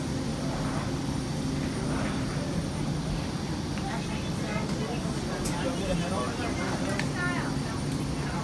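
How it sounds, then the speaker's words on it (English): Steady low engine drone of an American Airlines Boeing 787 Dreamliner, a continuous broadband roar filling the whole stretch with faint chirps and clatter on top. "This is an American Airlines Boeing 787 Dreamliner."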